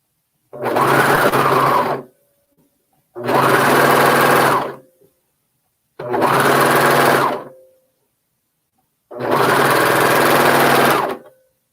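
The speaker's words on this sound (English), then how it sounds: "we're going to go ahead and start sewing this together" A sewing machine stitches pinned fabric pieces together in four steady bursts of roughly two seconds each, with short silent pauses between runs, close and fairly loud.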